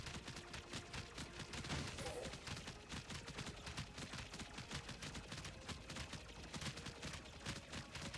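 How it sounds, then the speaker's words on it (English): Dense, continuous rapid-fire popping and crackling blasts of video game gunfire and explosions, steady and loud throughout with no pauses. "At least now we're getting explosions here."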